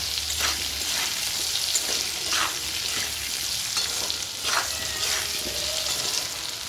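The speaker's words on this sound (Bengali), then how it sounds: "এর ভিতরে এবার পরিমাণ মতো নুন আর হলুদ দিয়ে আর একটু ভাজা ভাজা করে নেব।" Potato pieces frying in hot oil with salt and turmeric give off a steady, loud sizzle close by, broken by a few sharper bursts as a spatula stirs them.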